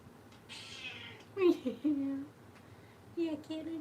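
A kitten meows several times in short, rising cries close by, with some soft background noise between calls.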